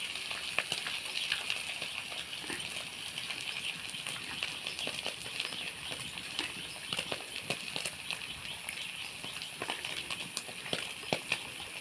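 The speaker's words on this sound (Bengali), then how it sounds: "কাঁকড়াগুলো আমার ভাজা হয়ে গেছে। এবার আমি তেঁতুল গোলা জলটা ওর মধ্যে দিয়ে দেবো।" Fried chiti crabs sit in a pan as tamarind water goes in, producing a faint, steady sizzling hiss peppered with small crackling pops and clicks throughout.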